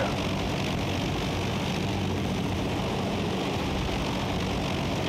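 A helicopter in the video game Battlefield: Bad Company holds a dense, steady engine and rotor roar throughout, loud and close with no speech over it.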